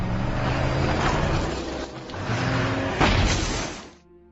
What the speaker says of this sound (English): Her car plunges down the slope, and she hears the brothers cheering.